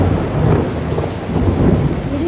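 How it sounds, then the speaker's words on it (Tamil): Heavy daytime rain pours down during a thunderstorm in Raya Vellore, with deep rolling thunder rumbling loudly and continuously under the steady roar of the downpour; no one speaks. "இடி சவுண்டு பார்த்தீங்களா எப்படி கேட்குது?"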